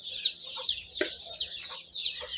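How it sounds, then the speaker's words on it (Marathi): Desi village chickens cluck at a rural poultry farm. There are repeated sharp, close clucks and squawks over a constant high-pitched background of chirping or insect buzz. "बघा प्युअर गावठी कोंबड्या द्या"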